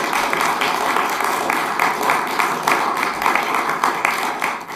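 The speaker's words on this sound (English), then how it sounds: "Please, let's give them a round of applause for offering up their names and candidacy." Steady applause from an audience at a community candidates forum, dense continuous clapping for nearly five seconds, close and fairly loud with no speech over it.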